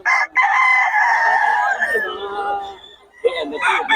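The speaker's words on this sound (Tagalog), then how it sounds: "Puro solid manok ni Boss Perry, oh." A rooster crows loudly close by in one long, wavering call, followed by another bird call starting at the end.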